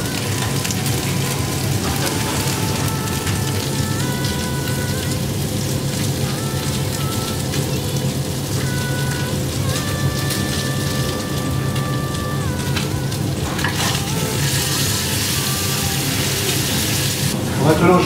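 A marinated salmon fillet fries gently in a pan, giving a steady, rain-like hiss that runs the whole time beneath soft sustained musical tones.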